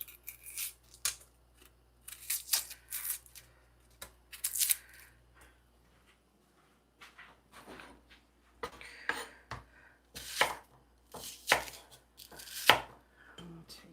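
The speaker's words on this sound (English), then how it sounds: "I'm just chopping up an onion here." A knife chops an onion on a cutting board in a kitchen, a rapid run of crisp, close blade strikes in irregular bursts with a brief pause midway, no voices.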